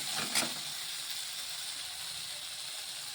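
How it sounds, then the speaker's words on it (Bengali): Carrot and capsicum stir-fry with a little sugar in a pan, producing a quiet, even sizzle, with one quick scrape of the spatula near the start. "এটা বাড়িয়ে ভেজে ফেলছি।"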